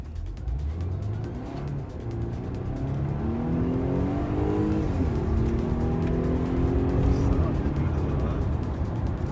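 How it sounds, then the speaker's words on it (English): A Volvo S60 T8 R-Design's engine revs up through several rising pulls on a test drive, its exhaust growling louder as it accelerates, with a faint voice in the background. "Exhaust sound, not bad, not bad."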